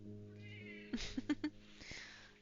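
A cat meows several times in short bursts, fairly faint against a steady background hum, with a video game stream playing.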